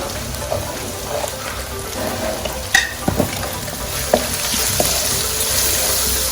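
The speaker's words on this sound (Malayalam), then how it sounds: "സവാള എല്ലാം കൂടി വഴറ്റും." Onions and ginger sautéing in a pan for a Kerala sardine curry, a steady close sizzle with occasional soft clinks and stirring scrapes of a spoon against the pan.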